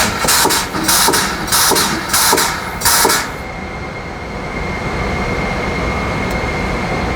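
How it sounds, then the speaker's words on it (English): Five rhythmic bursts of hissing air come first, then a HiP T-Series high-pressure pump motor settles into a steady, loud, continuous hum that keeps running to the end. "that's when you'll hear the motor kick in"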